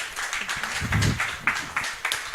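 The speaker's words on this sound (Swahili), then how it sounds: "Pigia Yesu makofi mazuri" A church congregation at a lunch-hour deliverance service claps hands for Jesus in a steady, rhythmic beat, many hands together, with some voices mixed in.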